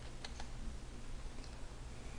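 A couple of quick computer keyboard key presses for an undo shortcut, faint clicks near the start over a quiet room hum.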